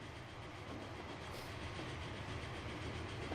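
A German steam locomotive numbered 57 climbs a hill during a train race in the Transport Fever video game, giving a steady, continuous rumble with rhythmic clickety-clack of wheels, moderately loud throughout with no voices.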